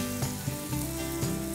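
Ginger, garlic and green chili paste sizzles gently in a pan for a spicy Amritsari paneer bhurji, a steady close hiss with a few soft stirring knocks and music playing underneath.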